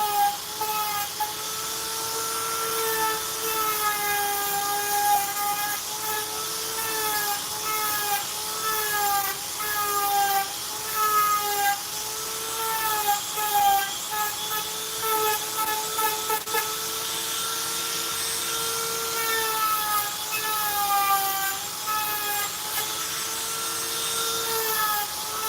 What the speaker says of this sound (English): Watching me Dremel stuff is not fun.